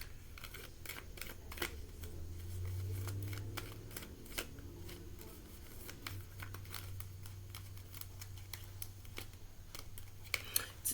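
Tarot deck being shuffled by hand, with quiet repeated riffles, taps and card slaps spread irregularly across the stretch over a faint low hum.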